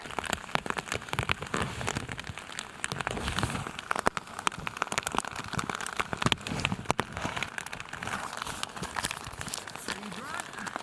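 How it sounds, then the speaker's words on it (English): Steady rain patters and crackles on a nearby surface, heard from inside a shelter during a storm, dense and continuous, with a voice talking faintly underneath. "It's raining."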